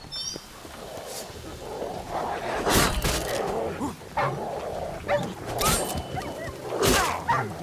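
Several dogs bark and yip in The Witcher 3: Wild Hunt, with repeated sharp barks over a constant busy game soundscape, fairly loud and close.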